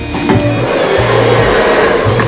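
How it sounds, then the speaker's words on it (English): A freestyle hair blow dryer roars continuously close by as it blows hair back into a pompadour, a steady loud whoosh with slight shifts in tone as it moves, and no talking. "We got our good old freestyle blow dryer."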